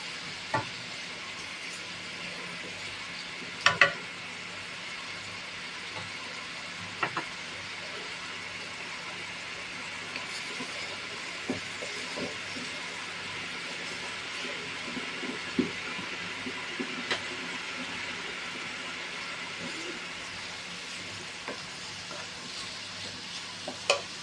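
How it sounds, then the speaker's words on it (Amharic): Onions frying in a pan for pasta sauce, a steady soft sizzle broken by scattered clicks and scrapes of stirring throughout. "ሽንኩርቱን በደንብ አድርጌ አበስለዋለሁ ማለት ነው።"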